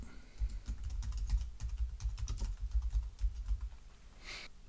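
Steady rapid typing on a computer keyboard while text is entered in GIMP, close and clear keystrokes in an even run with a short pause near the end.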